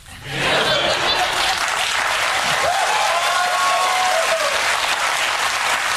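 Steady audience clapping swells in within half a second and holds loud and dense throughout, with a few faint whistles and cheers riding over the crowd noise.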